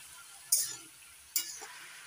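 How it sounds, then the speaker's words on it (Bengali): A spoon stirs ash gourd curry in a pan, giving two sharp metallic scrapes about a second apart over faint background hiss. "একটু নাড়াচাড়া করে দিচ্ছি।"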